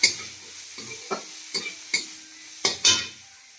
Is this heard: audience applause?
no